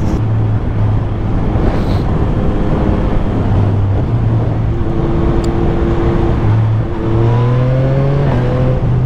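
A Yamaha MT-09 SP motorcycle is ridden on a road to work, its engine droning loudly under heavy wind rush, with rising revs and quick quickshifter gear changes stepping the engine note up in short bursts.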